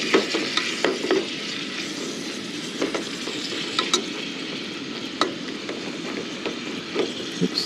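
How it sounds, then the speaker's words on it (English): Thin strips of steak brown in a hot pan for a spicy beef and broccoli stir fry, giving a steady close sizzle broken by scraping, clacking stirs at irregular intervals. "So we're going to brown the steak first."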